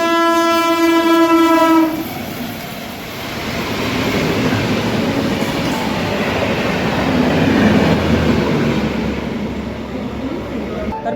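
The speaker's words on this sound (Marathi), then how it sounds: "सोलापूर पुणे डेमो एक्सप्रेस येत आहे" A loud train horn blares for two seconds, then the Solapur–Pune DEMU express rumbles and clatters steadily into the station platform, close by.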